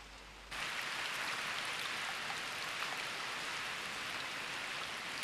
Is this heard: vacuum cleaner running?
no